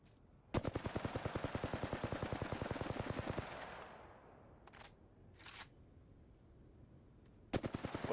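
A sustained rapid-fire burst from an automatic weapon in the video game Apex Legends, lasting about three seconds, then a few short taps and another brief burst at the end, heard with no voices.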